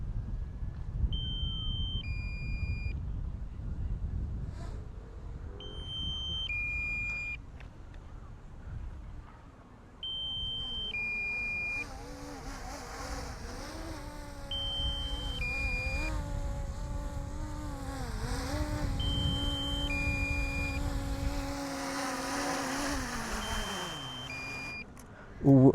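Repeated pairs of short electronic beeps from a drone sound at regular intervals over a steady outdoor background, with low rumble and a rising whine joining partway through.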